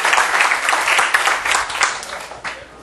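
Students in a university electromagnetics lecture clap for a classmate, a burst of many hands applauding loudly and then thinning out and fading near the end.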